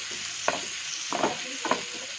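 Onions sautéing in a pan for a paneer cashew butter masala curry, steady sizzle with three short stirring scrapes spaced across it, close and alone.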